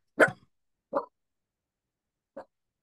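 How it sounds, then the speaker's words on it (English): A dog barks three short, separate times in a home during an online webinar, two barks close together and then a final fainter one after a pause, with quiet between them. "It would not be a vet med webinar without dogs barking."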